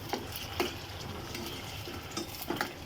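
Meat frying in a pot with stirring for a Ramadan meal, a steady broadband sizzle under sharp metallic scrapes and clinks of a spoon against the pot, no talk.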